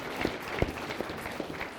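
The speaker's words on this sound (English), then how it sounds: "I think we should give these two a big round of applause" Wedding guests at a ceremony clap for the couple, a soft, fairly distant patter of scattered hands with a few sharper individual claps standing out.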